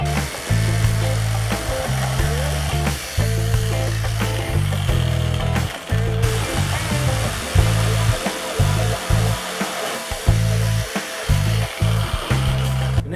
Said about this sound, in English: make quick work of cutting these with my jigsaw